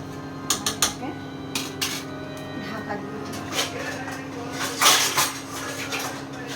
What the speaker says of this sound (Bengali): জল দিয়ে আমি নাড়িয়ে ভালো করে ঝোলটাকে নাড়িয়ে